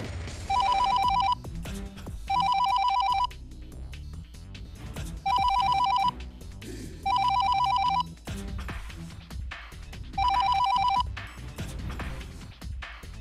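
A telephone rings with a call from Shimla, in five evenly spaced bursts of bright electronic trilling set over background music, loud and close.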